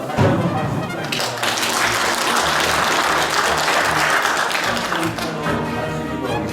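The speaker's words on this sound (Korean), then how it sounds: "다시 한번 박수 부탁드립니다" Catholic parish audience at a Legio Mariae spiritual talk applauding the priest, a loud, dense and sustained wash of clapping that holds strong throughout.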